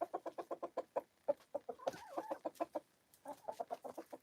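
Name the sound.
hen clucking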